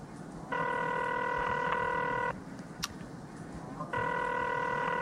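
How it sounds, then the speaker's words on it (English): Telephone ringing tone within a music video, two long electronic rings separated by a pause, loud and steady, with no voices present. "Phone call."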